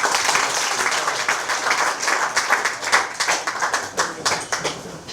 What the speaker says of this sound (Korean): 박수로 맞아주시죠